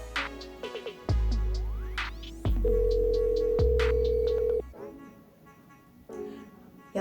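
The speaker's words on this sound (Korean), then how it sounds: "그럼 한번 전화를 하러 가볼까요?" A telephone tone sounds while a call is being placed, with a long steady beep between several louder thumps and clicks, followed by quieter background.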